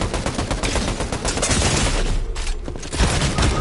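Turret gunfire in a video game pounds out as a rapid, continuous, loud automatic barrage that briefly thins before resuming.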